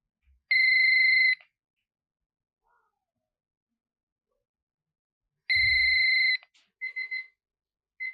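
Two bursts of an electronic telephone ring in a classic PTV drama scene, each steady trill lasting about a second, separated by a pause, loud and close with no talk over it.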